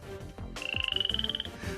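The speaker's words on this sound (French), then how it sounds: "Pouvoir de la grenouille." A cartoon frog lets out a rapid, rattling croak that rises into a steady trilling run after a brief clatter, loud and close, with no talking over it.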